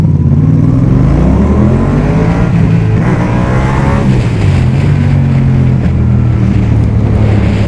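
Yamaha MT-07 2019 roadster motorcycle engine running steadily while riding, a loud, continuous low rumble with wind noise, close and unbroken throughout.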